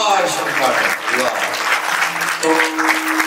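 An audience at a kirtan claps together, a loud, dense burst of applause with someone speaking over it.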